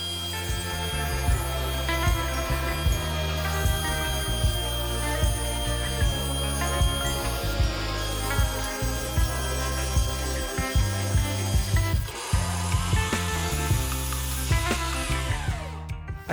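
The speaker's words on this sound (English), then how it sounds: "I'm going to go over it with a random orbit sander with a 220 grit disc." A random orbit sander fitted with a 220 grit disc runs over maple plywood for a kitchen island, giving a steady, close, droning whir with uneven rasping and brief bumps as it moves across the sheet.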